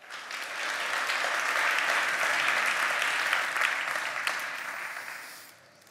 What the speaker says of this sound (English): please give a warm round of applause for Javier